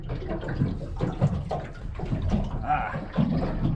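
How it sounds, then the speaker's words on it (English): Water trickles and splashes inside a mini jet boat being rebuilt, near and moderately loud with uneven gurgling bursts. "There's a little bit of water coming in."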